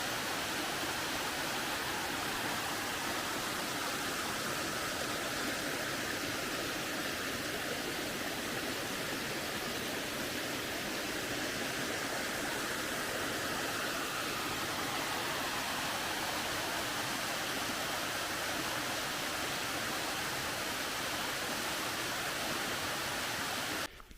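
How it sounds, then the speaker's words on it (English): A small waterfall on a hiking trail in Black Rock Mountain State Park pours in a steady, dense, close rush of falling water that stays unbroken throughout. "But a beautiful little waterfall."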